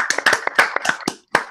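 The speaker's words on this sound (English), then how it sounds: "let's just stop for a minute and just have a round of applause for the Titans draft" A few people clap sporadically in uneven bursts for a Titans draft recap, the claps close and dry, with a short pause before a final clap.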